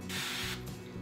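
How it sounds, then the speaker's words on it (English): A short hissing burst of aerosol cooking spray onto a heated waffle iron lasting about half a second, followed by faint mechanical clicks and hum. "we'll give it a good spray with kitchen spray."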